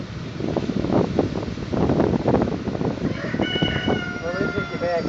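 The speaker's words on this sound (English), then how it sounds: "It's a windy, blustery day." Gusty wind on a blustery day buffets the microphone outdoors near a quail and poultry setup, a loud rumbling roar in irregular surges, with a rooster crowing and chickens clucking in the background.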